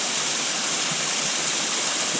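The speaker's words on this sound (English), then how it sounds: "here's another view of Spruce Flats Falls" Spruce Flats Falls pours in a steady, loud roar of rushing water with no break and no voices.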